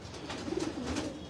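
Pigeons cooing in a short burst, soft rolling coos repeating close by with a low murmur underneath.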